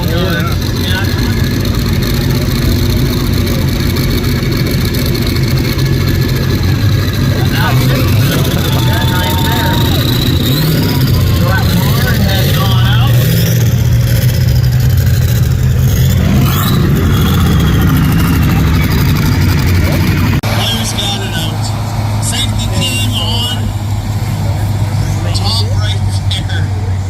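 A John Deere 5010 tractor engine runs at a tractor pull, a steady loud diesel drone that holds throughout and shifts pitch partway as it changes load, with crowd noise and talk mixed in.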